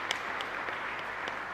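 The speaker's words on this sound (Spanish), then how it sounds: "Un fuerte aplauso también para ellos." A church congregation at a live Sunday Mass applauds a couple's twentieth wedding anniversary, a soft, moderately distant patter of clapping with a few sharper individual claps over a short burst.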